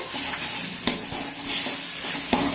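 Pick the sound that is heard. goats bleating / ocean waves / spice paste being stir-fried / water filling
spice paste being stir-fried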